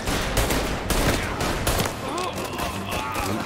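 Rapid bursts of gunfire in the video game Mafia, dense overlapping shots rattling across the whole stretch, loud and close.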